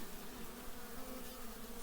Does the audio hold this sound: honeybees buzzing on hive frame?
yes